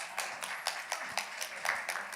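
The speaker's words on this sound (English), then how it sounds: "Let's clap him up." An audience at a youth community gathering claps for a speaker, giving faint, evenly spaced sharp claps from a distance with little other sound.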